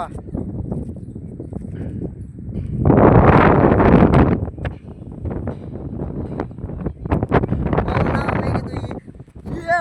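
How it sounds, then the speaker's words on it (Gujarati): Strong storm wind buffeting the microphone, with a loud broadband roaring gust around the third to fourth second and steady rushing and rumbling throughout, mixed with faint voices. "પવન મિત્રો બહુ છે."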